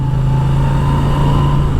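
A Moto Guzzi V7 Sport motorcycle engine runs at a steady low rev, a loud, even, droning hum recorded up close with no change in pitch and no voices.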